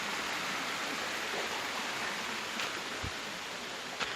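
Steady rushing of a river flowing beside a hiking trail on Miyajima, a continuous broadband wash of water with a couple of faint knocks, no talk.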